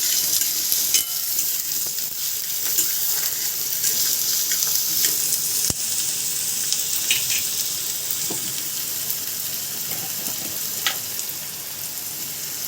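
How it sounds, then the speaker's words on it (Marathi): Finely chopped onion frying in a pan toward golden brown for a prawn gravy, giving a steady close hiss of sizzling oil with occasional stirring clinks and no one talking. "कांदा जो आहे गोल्डन ब्राऊन होईपर्यंत फ्राय करायचा."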